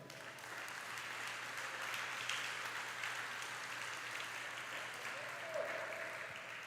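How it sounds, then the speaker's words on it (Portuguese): A church congregation applauds during a Sunday worship service, a steady, even wash of clapping from many hands that holds at moderate level throughout. "Dá um aplauso ao Senhor, vai."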